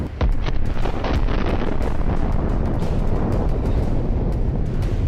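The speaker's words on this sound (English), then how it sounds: "a precise hit to the APC's weak point, and we see a very large explosion." A very large explosion as an FPV drone strikes an armoured personnel carrier in combat, heard as a loud, sustained roaring blast that fills the whole stretch with dense rumbling and crackle, no voices.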